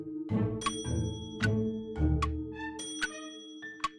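A bell rings in the video game Day of the Tentacle, struck about five or six times in quick succession with bright, clear dings over a sustained low tonal backdrop.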